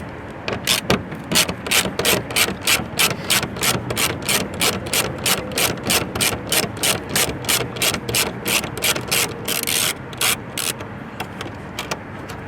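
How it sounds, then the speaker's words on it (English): Rapid, steady ratchet clicking as factory screws are backed out on a 2024-2025 Mustang with Performance Pack, a close, continuous run of evenly spaced clicks lasting the whole stretch, briefly denser near the end, with no talk. "we're going to be removing these factory screws"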